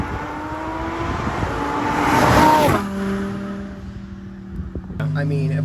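A twin-turbo Audi R8 revving loudly from inside the cabin on a ride along, the engine climbing to a strong peak, then dropping to a steady drone before surging again, with occupants talking over it.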